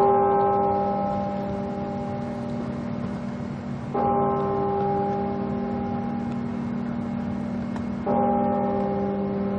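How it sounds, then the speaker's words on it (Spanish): A large church-style bell on the Berkeley university campus tolls slowly, three resonant strokes about four seconds apart, each ringing out and sustaining over a steady low hum. "Están sonando las 7 campanadas."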